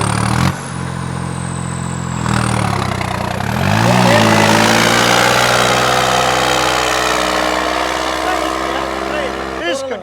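A New Holland 3630 tractor engine fitted with an in-line pump runs steadily and loud up close, its pitch climbing as it revs at about two seconds and again near four seconds, then holding a high, even drone until a drop at the very end.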